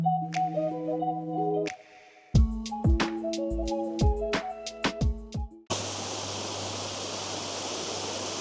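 Tianna Falls waterfall and river rush in a steady, loud broadband roar with a low hum beneath it, heard only in the last three seconds after several seconds of tonal music.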